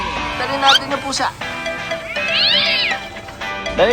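A cat meows several times in quick succession, close and loud, with rising and falling cries, while people talk over and between the calls.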